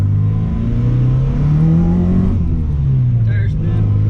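An old, long-idle car with a leaking fuel tank is driven through a snow squall, its engine revving and droning loudly with pitch rising and falling as the tires spin, up close from inside the car.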